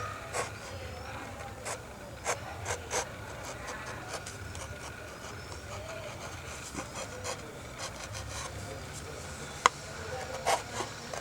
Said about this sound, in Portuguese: Vir com formão em U. Ele provavelmente vai tirar uma área maior.